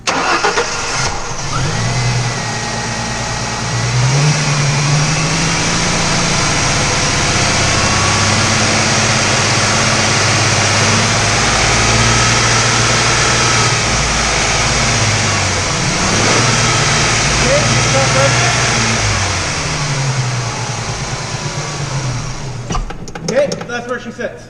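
A Ford Mustang engine treated with Seafoam cranks, catches and settles into a steady, smooth mid-pitched idle close by, with slight rises in engine speed; people talk over it now and then before the engine note drops away near the end.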